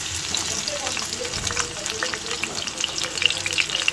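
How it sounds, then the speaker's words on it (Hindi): Halved tomatoes fry in hot oil for a tomato and onion chutney, giving a steady, close, dense sizzle with crackling pops throughout and no talking. "इस तरह से हम इनको रख देंगे ऑयल में।"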